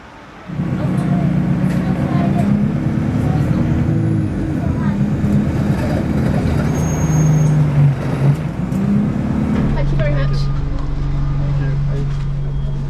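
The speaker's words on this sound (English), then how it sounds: "Just come out of Merthyr bus station." Buses rumbling and idling around Merthyr bus station, a steady nearby engine drone with shifting tones and brief higher bursts, while people talk over it.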